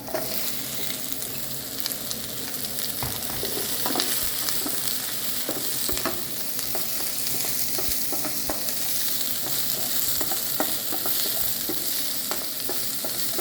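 Peppers added to garlic and onion frying in a pan for a cauliflower dish, giving a steady, dense sizzle with occasional scraping stirs, close and even throughout, no voices.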